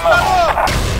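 Grenade blast in Counter-Strike: Source, a single sharp, loud explosive burst that rings out briefly and fills the whole second, with no talk over it.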